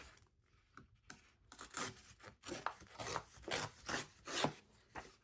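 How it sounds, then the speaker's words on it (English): Junk journal paper is torn off in a series of rough, rasping rips and rubs, several short close bursts in quick succession, fairly quiet with no talking. "I'm just going to tear it off because I know that I'm going to have plenty of room."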